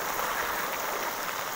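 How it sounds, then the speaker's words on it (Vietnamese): Heavy rain pours steadily during a flood in Nghe An, a dense, continuous hiss of drops hammering water and surfaces up close, with no gaps or voices. "Mưa khiếp luôn là nước này, đang đi vào dòng lũ này."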